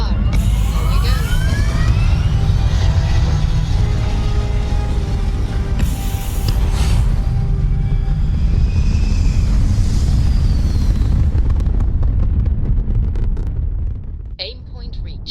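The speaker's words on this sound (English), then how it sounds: "Engines firing. Here we go." Spaceship engines firing for launch in the video game Starfield: a loud, sustained roaring rumble with rising whooshing tones that holds steady for most of the span, then drops away near the end, with a voice talking over it.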